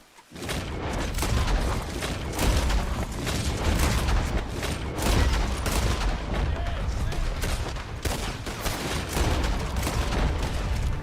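Sustained gunfire from a Red Dead Online shootout, a dense, continuous barrage of shots and booms that fills the whole stretch at steady loudness.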